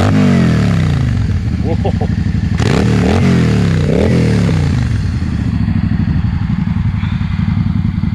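A Yamaha V-Star cruiser motorcycle engine cranks, catches and settles into a loud, close, lumpy idle with a couple of throttle blips; a brief exclamation is spoken over it.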